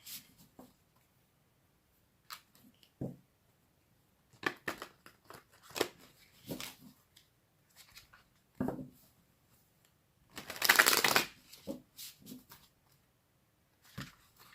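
Crisp papery riffles and soft slaps of tarot cards being shuffled by hand, coming in short bursts with pauses, one longer rapid shuffle near the end.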